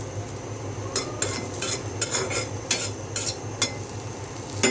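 Garlic, chili and dried fish frying in a pan, with a utensil scraping and stirring in repeated sharp strokes over a steady low sizzle, close and without talk.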